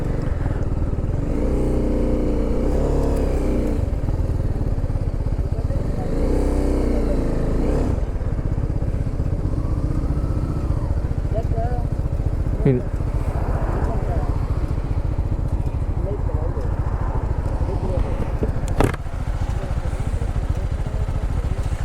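Motorcycle ride on the road, a loud continuous engine drone and wind rush with bursts of revving and a couple of sharp clunks, while riders talk over it.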